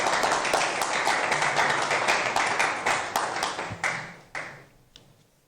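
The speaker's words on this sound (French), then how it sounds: "Give the Lord a big hand of praise." Congregation in church giving a big hand of praise: sustained rhythmic clapping from many people, loud and close, gradually thinning into a few scattered claps and fading out near the end.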